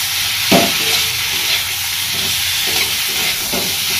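Potatoes and cauliflower tipped into spiced oil in a pan make a steady, close sizzle, with a few sharper stirring scrapes standing out now and then.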